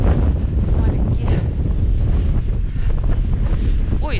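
Strong winter wind blows outdoors along a street in Magadan, a loud, constant roar buffeting the microphone without pause, with no clear voices over it.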